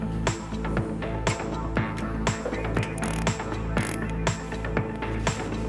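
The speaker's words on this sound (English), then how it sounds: "We now tighten the bolts of the locking mechanism on both sides once again." Bolts on the locking mechanism of a REMBE Q-Flap RX explosion valve are tightened with a ratchet, giving repeated sharp clicking strokes in irregular bursts, close and fairly quiet, with no speech.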